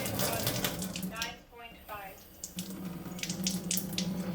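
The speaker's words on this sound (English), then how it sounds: "With just a little turn of this knob, I am able to get my Kangen water." A Kangen ion faucet opened with a small turn of its knob runs water in a close, steady splashing stream that briefly dips before resuming at full flow.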